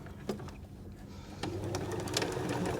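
A sewing machine stitches a cutlery pouch lining, running in a steady mechanical whir that grows louder and busier partway through, close up with no talk.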